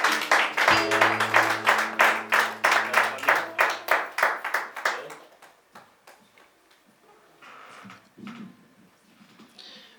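An audience at an official platform presentation claps in a steady, rhythmic unison beat with a tone underneath, then the clapping thins out and fades to scattered claps.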